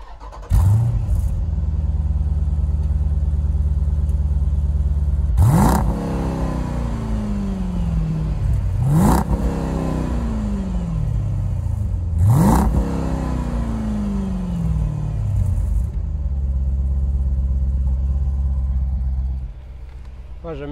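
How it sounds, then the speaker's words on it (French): A Jeep Grand Cherokee SRT's large cast-iron engine idles with a deep rumble, then is revved hard three times in sharp bursts that fall back to idle, with voices briefly over it. "Si tu veux le démarrer, mettre 2-3 petits coups de gaz."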